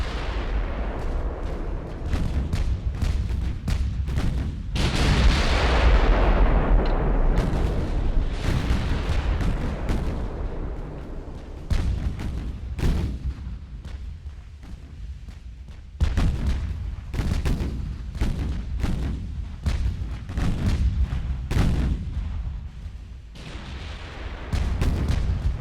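Big warship gun turrets firing in the naval game Ultimate Admiral: Dreadnoughts, repeated heavy booms and rumbling blasts in irregular bursts over half a minute, loud and close with no talk.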